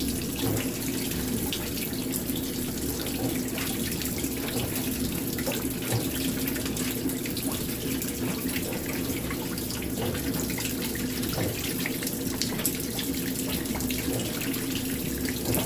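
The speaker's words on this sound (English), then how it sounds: "this is enough water right off the bat with auto sensing" Steady rush of water pouring into a washing machine tub on a delicate cycle, continuous and moderately loud with a faint hollow splashing, no voices.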